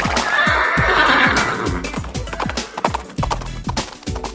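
Horse neighing and whinnying as a radio-play sound effect, a loud drawn-out whinny followed by repeated snorts and clip-clopping hoof beats, with no talk.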